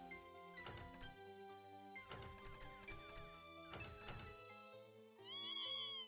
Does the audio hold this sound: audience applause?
no